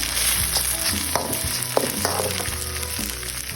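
Sukiyaki ingredients stir-fried in a hot pan give a steady, close sizzle, broken by repeated scraping stir strokes throughout, with no voices.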